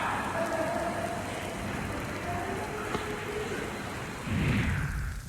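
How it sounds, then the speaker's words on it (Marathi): Heavy rain pours steadily in Jalgaon district, a dense continuous hiss of falling water with a low rumble of thunder swelling near the end. "विजांसह मुसळधार पाऊस झाला आहे"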